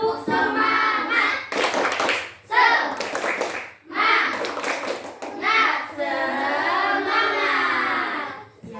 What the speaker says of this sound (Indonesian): mari kita semua bertepuk semangat